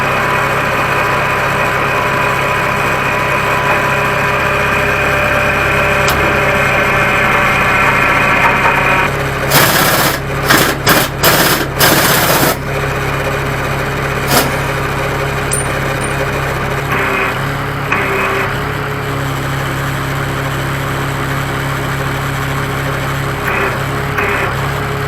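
The engine of a crane runs at a steady idle, tensioning the chain on a Caterpillar track. The hum is loud and constant, with a burst of sharp metallic clanks partway through and a few lighter knocks afterwards.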